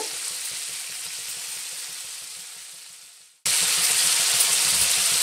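Afghani chicken frying in a pan, a steady loud sizzle that fades briefly, cuts out, then returns at full strength.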